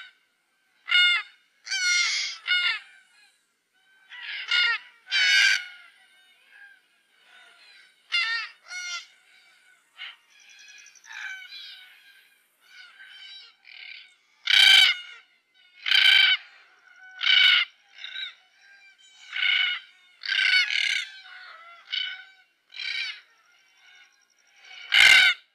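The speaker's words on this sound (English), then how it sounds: "yellow-tailed black cockatoo." A yellow-tailed black cockatoo gives a series of loud, harsh, wailing calls in irregular bursts, some close together and some spaced out, with clear gaps of silence between them.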